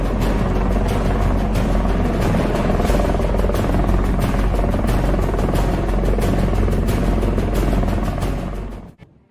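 A helicopter triggering a controlled avalanche roars loudly and steadily overhead, its rotor chopping in a rapid rhythm, before the sound cuts off abruptly at the end.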